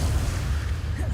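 A Confringo explosive spell blast in Hogwarts Legacy: a short, heavy, booming rumble that is loud and low throughout its brief span.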